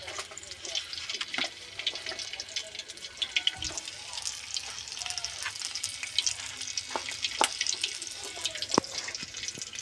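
Coated potato pakoras fry in hot oil with busy bubbling and crackling, mixed with scattered clinks and clatters of utensils, fairly close and continuous.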